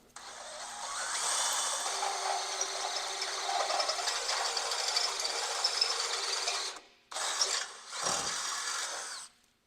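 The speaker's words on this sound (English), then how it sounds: "We're just going to drill a hole right through this little body mount bracket here." A power drill grinds steadily through a metal body mount bracket on a third-generation Toyota Tacoma for several seconds, with short pauses and restarts near the end.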